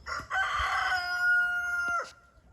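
A Marans hen gives a single drawn-out, tonal call lasting about two seconds, close and clear against a quiet pen.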